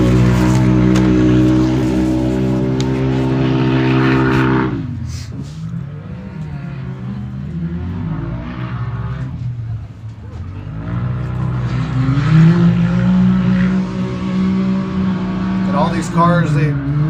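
Turbo UTVs race through rugged desert corners at the High Desert 100 in Powell, Wyoming, engines loud and revving, with a dip and then building roar as machines pass, while a commentator talks over them.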